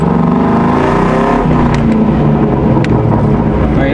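Mustang GT V8 at full throttle, loud and close, a continuous heavy roar with rising engine tones as it accelerates, sounding dense and raspy throughout.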